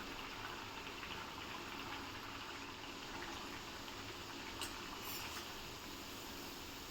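Wheat flour pua batter frying in hot oil, a steady, dense sizzle and bubbling that holds at an even level throughout with no talk.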